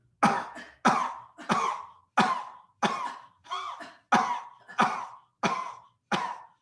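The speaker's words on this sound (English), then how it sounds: "Start coughing." Ten sharp, forceful coughs in a steady rhythm, forced exhalations in a yoga breathing exercise, each a short burst of breath followed by a brief pause, close and clear with no talking.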